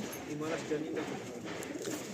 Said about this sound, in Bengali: এটা দেখুন চকলেট দমা পায়রা